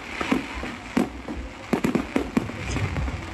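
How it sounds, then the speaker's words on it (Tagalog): Fireworks burst over a food bazaar in Maragondon, Cavite, an irregular run of sharp pops and booming cracks, some clustered in quick succession, loud against a constant outdoor crowd rumble. "pumutok na nga yung yung mga pailaw nila, yung fireworks nila"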